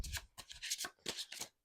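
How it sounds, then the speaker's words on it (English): Small tarot cards being riffle shuffled up close, quiet bursts of rapid flicking and fluttering in quick repeated runs, with soft shuffling between them. "they riffle shuffle like a dream"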